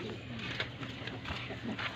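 Two pigeons coo softly in low, rounded calls over steady background noise, with a faint voice murmuring now and then.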